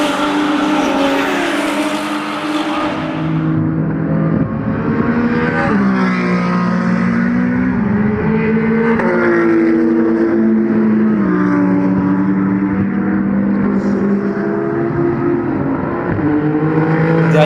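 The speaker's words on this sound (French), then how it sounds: "la bataille est intense entre la Ferrari d'Alexis Berthet et la Porsche de Yann Penn pour la deuxième place du scratch" A Ferrari and a Porsche race hard at Magny-Cours, engines roaring loud and continuous as revs climb and drop through gear changes, close to the track with no voices.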